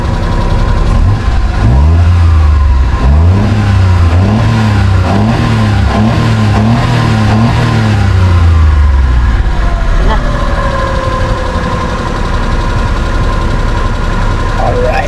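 A Suzuki car engine is revved repeatedly during an overheating check, rising and falling in several loud, close swells before settling into a steady idle, with a voice talking over it.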